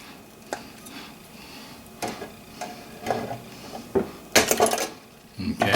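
Electrical wire is cut off while a new wall outlet is installed. Several sharp metallic clicks and snips ring out close by among softer handling clatter, growing busier and louder toward the end.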